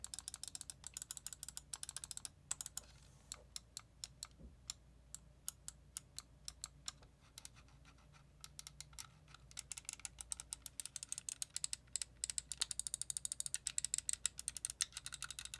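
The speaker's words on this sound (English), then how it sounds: "It's that straight up click that you like to feel and see in a mouse." Buttons on a Glorious Model I mouse click in rapid, crisp bursts, dozens of sharp close taps in an uneven stream with a short lull partway through.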